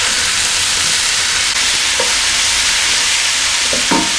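Vegetables stirred in a hot pan and coated in seasoned oil, giving a steady close sizzle with a few soft scrapes and clicks of the utensil, and no voices.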